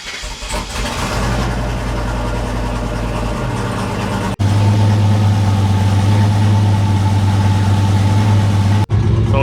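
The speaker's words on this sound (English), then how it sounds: "So we'll just let that idle for like 5-10 minutes." Single-turbo Chevrolet Silverado truck engine, freshly refilled with oil, starts and settles into a loud, steady, close idle with a deep rumbling drone, cut by a couple of brief edits.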